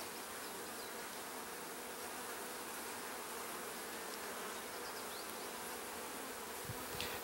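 Honey bees hum in a dense, steady drone while an open hive is inspected, a close and continuous buzz with no voices over it.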